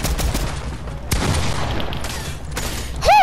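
Rapid bursts of gunfire from the video game Fortnite crackle loud and dense throughout, with several sharp volleys and a bright tonal game effect near the end.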